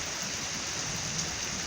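Steady rain falls during a wet Wednesday in a city, a dense even hiss with no breaks and no voices.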